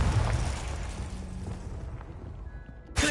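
Fiery spell blast from a Harry Potter video game, the Confringo curse, bursting with a loud broadband whoosh and rumble that fades over about three seconds before a sharp new burst at the end.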